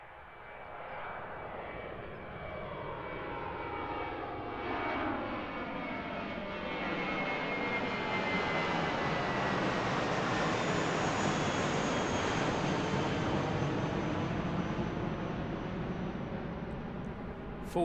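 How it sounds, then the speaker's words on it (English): A Jetstar airliner takes off at full power from Christchurch Airport, its jet roar building steadily to a sustained, loud rumble with a whining edge, then holding as it climbs away. "Full noise departure from Jetstar,"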